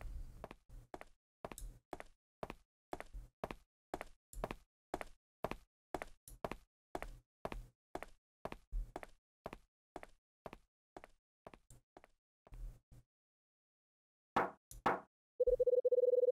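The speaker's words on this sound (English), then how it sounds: "I hear the sound of somebody knocking on the door." Knocking on a door in the video game Last Window: The Secret of Cape West, a long run of evenly spaced, clear knocks for about twelve seconds, then silence, a few scattered taps and a steady electronic tone at the end.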